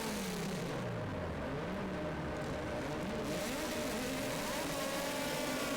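Euro JK16 formula race cars set off on a formation lap, multiple engines revving and rising in pitch at close range, steady and loud with no talking.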